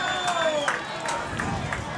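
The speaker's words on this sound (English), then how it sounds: "And you heard the crowd." A football crowd at a high school varsity sectional championship game cheers and roars steadily after a 35-yard run, a dense, sustained wash of distant voices and shouting with no single voice standing out.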